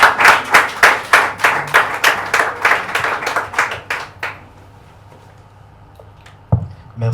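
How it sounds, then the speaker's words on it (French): An audience claps in a strong burst of rhythmic applause for about four seconds, then it fades to a quiet room with a brief knock near the end. "Applaudissez pour lui."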